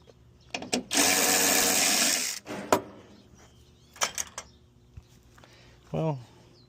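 An electric ratchet whirs on a van during grille and AC work: one sustained, close, fairly loud burst of about a second and a half, bracketed by short clanks and taps, with a brief voice sound near the end.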